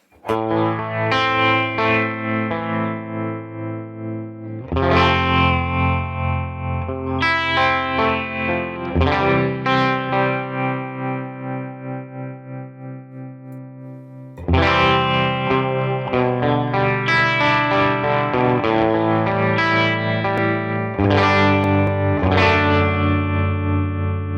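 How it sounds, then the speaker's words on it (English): An electric guitar through a Tone King Imperial neural amp plugin with tremolo plays chords and picked notes in two long phrases, loud and close with a pulsing, wavering sustain. "The tremolo also sounds great."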